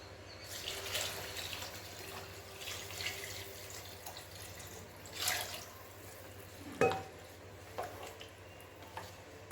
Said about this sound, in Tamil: இந்த டைமில் நம்ம தண்ணி ஊற்றிடணும்.